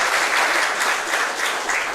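A crowd applauds at a grappling match, a steady wash of clapping that holds evenly from start to finish with no voices.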